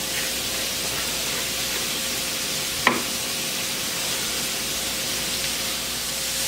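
Tater tot casserole ingredients sizzling in a pan, with a steady broad hiss of frying throughout and one brief scrape of stirring partway through, no talking.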